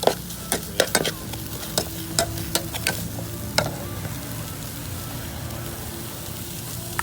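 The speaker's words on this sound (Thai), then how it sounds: "ใส่ปลาดุกไปครับ นี่ครับปลาดุก" Catfish goes into a pan with stock for catfish larb and is stirred, a run of sharp scraping clicks and taps over a low bubbling simmer that settles into steady sizzle, close and without talk.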